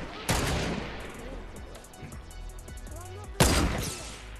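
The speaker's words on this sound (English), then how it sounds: "Okay, I just shot somebody!" Gunfire in a sniper-versus-runner video game: two sharp, loud shots about three seconds apart, each with a ringing tail, over quieter game ambience in between.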